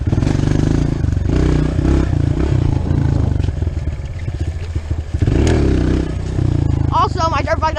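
A dirt bike ridden on trails by a 12-year-old rider, engine droning loud and close throughout with a low, steady thrum, rattling clatter and scraping over rough ground, and a voice talking over it.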